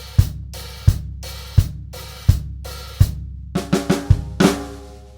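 Steady drum groove with sharp, evenly spaced hits, then a quicker cluster of strikes near the end landing on a doubled snare flam. Close and punchy.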